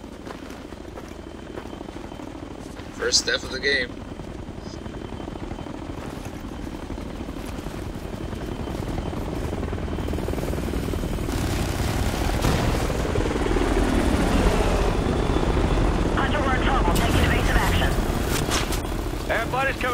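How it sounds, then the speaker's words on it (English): A hostile helicopter in the video game Ghost Recon Future Soldier makes a rotor drone that grows louder and heavier as it passes overhead, under game gunfire and effects while a player talks. "that chopper is going to take me out"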